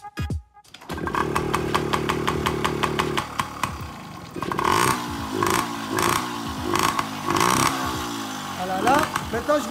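A Yamaha PW 50 motorcycle engine runs during a carburetor adjustment with its airbox fitted, first idling with a steady buzzing drone, then blipped through a series of sharp revs that rise and fall close by.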